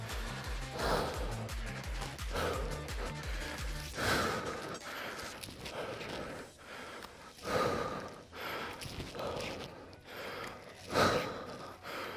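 Heavy, rhythmic gasping breaths from someone exerting themselves during a CARV workout, repeated strained inhales and exhales over steady background music.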